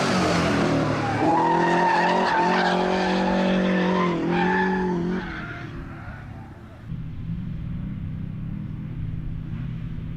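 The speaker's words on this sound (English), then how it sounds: "Chris Farrell, certainly entertaining the spectators in Mark II Escort." A Mark II Ford Escort rally car racing at Blyton, its loud engine roaring and revving hard with tyres skidding through the first half, then dropping back to a steadier, quieter drone.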